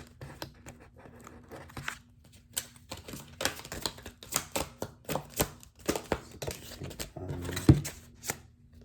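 An energy oracle card being pulled from a deck during a tarot reading: crisp, close card flicks, rustles and taps in an irregular patter, quiet, with no speech.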